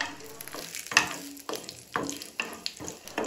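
Dried red chillies, cumin seeds and matar dal fry in hot oil, crackling and sizzling softly with repeated scraping stirs at a steady rhythm.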